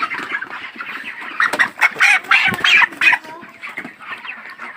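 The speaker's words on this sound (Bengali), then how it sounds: "এই যে একটা মোরগ আছে" Chickens on a poultry farm cluck in a busy, close chorus of short overlapping calls that swell in the middle and ease off toward the end, with no talk.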